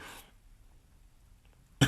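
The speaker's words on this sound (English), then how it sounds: "Sorry, I'm getting over this cough." A single cough from a man recovering from a cough bursts out sharply and close at the very end, after a short burst of sound and near silence.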